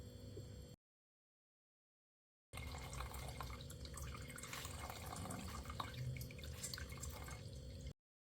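Homemade strawberry wine strained through a cloth-lined strainer, giving a steady close trickle and patter of dripping liquid that runs continuously for several seconds after a short pause.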